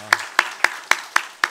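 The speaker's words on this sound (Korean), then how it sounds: "박수하겠습니다." Congregation in a Korean Holiness church Sunday service clapping in unison, six sharp, evenly spaced claps in a steady rhythm, fairly close and clear with no talking over them.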